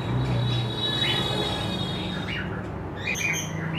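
Fancy pigeons squabble inside a cage at a pigeon and fish shop, with short squawks and flutters over a constant busy background din of traffic and activity.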